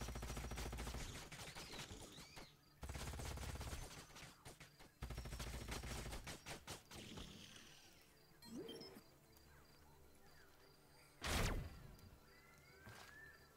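Units trade weapon fire in the sci-fi strategy game Age of Wonders: Planetfall, with bursts of shots and impacts over game music, bunched in the first seconds and ending in one sharp, loud blast near the close.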